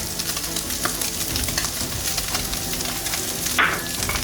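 Seasoning mix frying and being stirred in a pan with small bits of meat, a steady close sizzle with scraping stirs throughout and a brief sharper hiss near the end.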